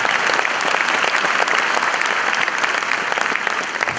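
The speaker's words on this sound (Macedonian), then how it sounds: "Дайте еден аплауз да не се чувствуваме празни" A stand-up comedy show audience bursts into sustained, dense applause that stays steady and loud throughout, with only faint crowd murmur underneath.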